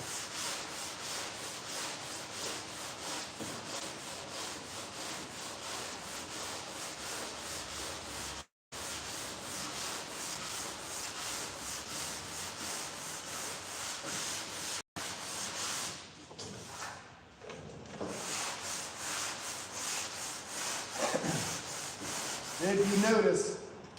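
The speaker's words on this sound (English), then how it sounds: "I'm still sanding it until I get down like this here." A hand block rubbing back and forth over a metal surface, producing a continuous close-up scratchy sanding sound with a few brief pauses and uneven strokes toward the end.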